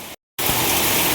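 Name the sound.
heavy continuous rain outside a flooded house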